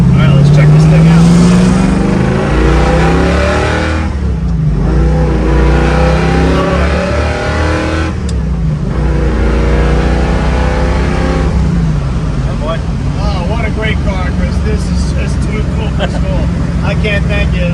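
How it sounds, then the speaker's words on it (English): Classic Ford Mustang Bullitt with a 4-speed manual accelerating hard through the gears, a loud, close engine roar rising and dropping with each shift, with people talking over it. "I love these classic Mustangs, just the way they sound and feel."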